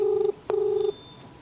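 A phone call rings out in two long electronic ringback tones with a short gap between them, clear and close, and no voices.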